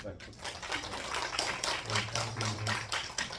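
Parents attending a Chinese-character humanities lecture at an elementary school clap together, a brief, fairly faint patter of applause that holds steadily for a few seconds.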